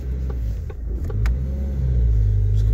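A car engine with a fuel pressure regulation fault, stalling as it climbs in revs: a close, loud low rumble that holds and swells slightly, with no speech over it.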